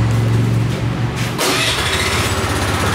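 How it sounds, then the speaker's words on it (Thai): A Honda Zoomer scooter engine cranks and catches at close range, settling straight into a steady, buzzing idle that carries on to the end. "เดี๋ยวมาสั่งสตาร์ทให้ดูนะครับกด2ครั้ง"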